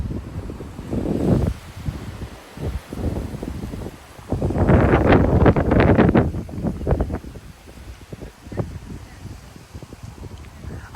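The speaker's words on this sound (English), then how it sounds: "Every single tree in the neighborhood is swooshing right now." Strong 45 mph wind gusts from a cold front swoosh loudly through neighborhood trees, with rustling surges and heavy wind buffeting on the microphone, rising and falling in waves.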